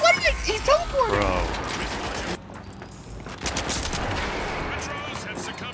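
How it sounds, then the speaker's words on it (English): Rapid gunfire from the first-person shooter The Finals bursts out loudly in dense, rattling volleys, drops away briefly, then returns as sustained shooting mixed with game effects while players talk over it. "That guy's shooting me all the way from over there."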